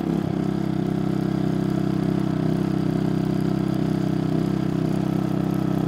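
A brand-new GM4600iAEFIC fuel-injected inverter generator runs at high idle, giving a steady, loud, close engine hum with a smooth, unchanging drone throughout.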